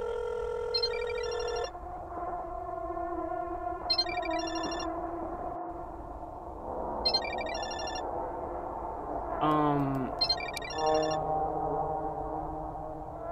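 A phone ringtone in the horror video game Parasocial plays as a repeating electronic ring, with bursts recurring every few seconds over a steady tonal background and a short sliding tone near the end.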